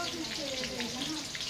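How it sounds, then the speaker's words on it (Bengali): Potatoes frying in hot oil in a wok, seasoned with turmeric and salt, give a steady close sizzle throughout, with faint voice tones underneath. "একে একে আলুগুলো দিয়ে দিলাম, ভেজে নিব আলুগুলো তেলে।"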